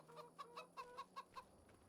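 A small flock of chickens in Farming Simulator 26 clucks softly in a quick, regular series of about seven short calls, faint and close, with no voices over it.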